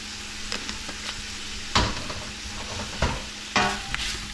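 Smoked paprika and onion powder sizzle steadily in a pot for jambalaya while a spoon scrapes and stirs, giving a few louder scraping strokes over the constant frying hiss.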